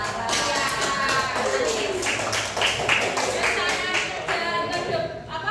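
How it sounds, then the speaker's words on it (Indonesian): A school audience applauds a student with steady, dense clapping over several seconds, fairly close, with voices talking over it. "tepuk tangan buat Mbak"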